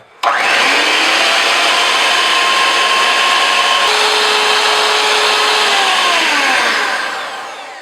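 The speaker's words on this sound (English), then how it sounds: "it will take a little bit longer, but that's just the way it works with hand mixers" A handheld electric mixer whips two cups of whipping cream in a bowl, a loud, steady motor whine that runs without a break and shifts pitch partway through, then fades slightly at the end.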